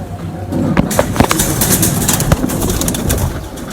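A champion racing pigeon from Haripur makes close, bird-like sounds, with sharp flutters and clicks scattered across a few seconds of busy background noise.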